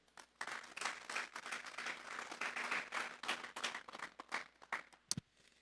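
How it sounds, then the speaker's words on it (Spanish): A church congregation claps and applauds the Lord steadily for several seconds, fairly loud and uneven, then the applause tapers off. "Vamos a dar un fuerte aplauso pues al Señor."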